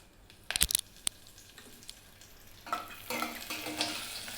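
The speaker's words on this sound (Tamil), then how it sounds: "அது ஹீட் ஆனோடனே இந்த கடுகு, உளுத்தம்பருப்பு, பெருங்காயம் இதை போட்டுருங்க." Mustard seeds, urad dal and asafoetida drop into hot groundnut oil, giving a few sharp pops and crackles, then a soft, rising sizzle heard close up in a quiet kitchen.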